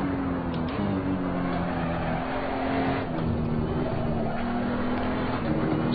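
A race car drifts in Assetto Corsa, its engine droning loud and steady with shifting revs and a faint tire squeal running underneath the whole stretch.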